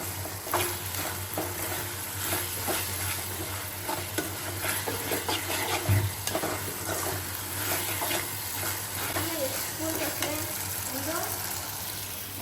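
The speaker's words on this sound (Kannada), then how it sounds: "ನೋಡಿ ರೈಸ್ ಕುಕ್ ಆಗ್ತಾ ಇದೆ" Rice cooking with spring onion in a pan, stirred continuously with a spoon, giving a dense close sizzle and scraping that runs throughout, with a low steady hum behind it.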